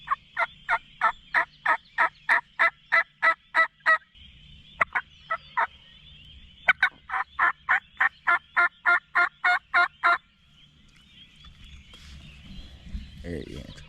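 Wild turkeys gobble in a field in Ohio during a hunt, two long runs of rapid, rhythmic gobbling notes, fairly close and loud, broken by a short pause, followed by low rustling and faint movement.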